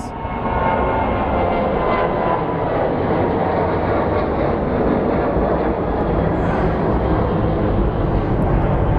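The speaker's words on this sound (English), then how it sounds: "So we have a Sun Country Airlines 737, probably headed to Minneapolis." A Sun Country Airlines Boeing 737 roars loud and continuous at Phoenix Sky Harbor International Airport, its jet engine noise steady and close with no voices.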